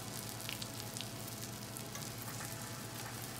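Eggs cooking Waffle House style in a pan give off a steady, soft sizzle and frying crackle, continuous and fairly quiet throughout with no talk.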